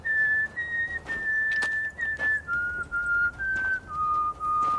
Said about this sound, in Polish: kto na głos tego gwizdania poczuł gęsią skórkę